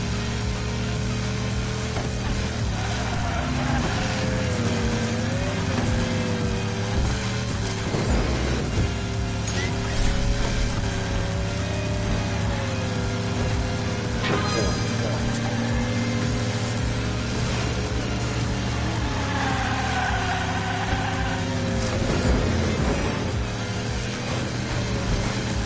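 A toy car races along a track in Hot Wheels Unleashed, its engine whining steadily with rising and falling pitch, loud and continuous throughout.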